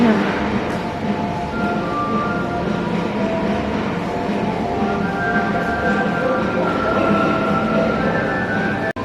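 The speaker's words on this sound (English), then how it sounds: "look at all these model trains and trains over here" Model trains running in a store at Dayton's Carillon Park: a steady mechanical rumble and whirr with thin whining tones drifting in and out, and faint voices in the background.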